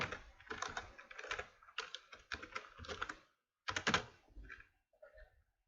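Bursts of close, clicky keystrokes on a computer keyboard, tapped in quick uneven runs with short pauses, ending in a few scattered presses and near silence.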